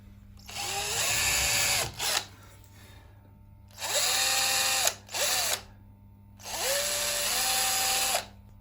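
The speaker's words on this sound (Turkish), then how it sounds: "Kristalımızı yukarı çekmek için buradan da bir delik deleceğiz arkadaşlar." Power drill boring a hole in the wooden body of a stage bağlama saz: three sustained whirring runs of a few seconds each, with short pauses and a brief burst between them, close and loud over a low hum.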